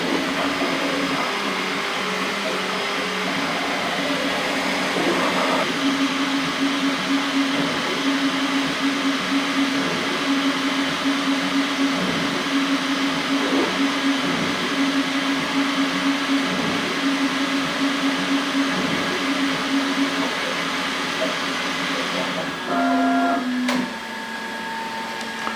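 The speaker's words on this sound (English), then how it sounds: "There she is, the first filament out of this machine, and its first Benchy." A Bambu Lab X1 Carbon 3D printer runs its first Benchy print with a steady whirring fan drone and rhythmic stepper-motor tones pulsing along. It ends with a few short beeps and a sudden drop in noise near the finish.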